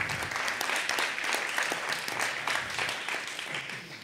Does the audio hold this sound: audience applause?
yes